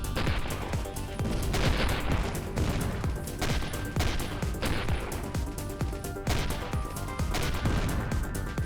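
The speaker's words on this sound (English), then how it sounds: "Oh, the explosions." Rapid, dense bursts of gunfire-like blasts and explosions from the space combat game Avorion, continuous and loud, with no talking.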